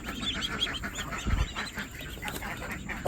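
Chickens being shooed out from behind something in a garden give a few scattered squawks and clucks over a steady background hum, with one low thump midway.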